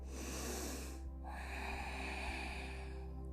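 Slow, deliberate breaths during a vinyasa flow yoga session, an airy exhale fading out, then a short gap and a fresh breath building, close and soft over a low steady hum.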